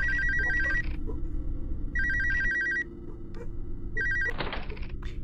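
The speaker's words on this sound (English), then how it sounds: "Now the phone's gonna activate." A telephone rings inside a scary video game, three bursts of electronic trilling bell roughly two seconds apart over a low ambient game drone, ending with a short clatter.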